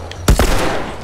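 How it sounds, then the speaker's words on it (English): Two quick gunshots from a firearm in The Last of Us, a heavy close blast followed a split second later by a second, softer report, with no voices. "Two shots."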